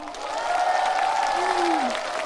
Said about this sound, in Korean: 좋으신 분들은 박수 한번 주세요.